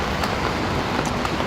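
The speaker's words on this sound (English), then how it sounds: "So yeah, what to do in this heavy rain?" Heavy rain falls on a city street in the morning, a dense, even hiss of downpour with faint traffic noise in the background.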